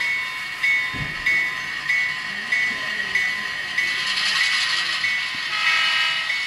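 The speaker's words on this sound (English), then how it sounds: "bring our own DCC sound-equipped locomotive to run on a layout" A DCC sound-equipped model train locomotive runs on a layout with a steady mechanical hiss and chuff, its high whine continuous, and a sharp clank near the start; no talking.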